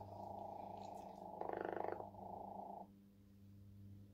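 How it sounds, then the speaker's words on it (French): A Chongker robotic cat toy gives a steady mechanical purr with a low rhythmic hum and a brief louder burst partway through before settling to a faint drone. "il ronronne"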